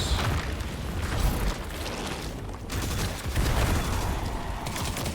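Distant rolling weapon fire in Destiny 2, a steady rumbling wash of shots and booms with no clear gaps, fairly loud and continuous throughout.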